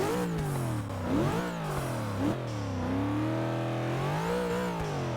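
An Aztec car engine in Forza 6 revs hard and steadily, its pitch rising and dipping through repeated throttle swells, loud and close with no talking.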